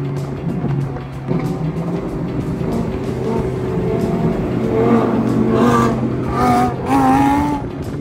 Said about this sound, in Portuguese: os três carros é V10, mano. Os três carros. O barulho que dá é muito massa, velho.